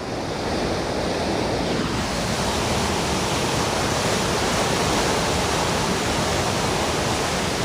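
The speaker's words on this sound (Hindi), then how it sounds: "ये पानी की आवाज़ आप सुन सकते हैं।" Loud, steady roar of rushing water released at a dam, a dense continuous wash of noise with no pauses, close and enveloping.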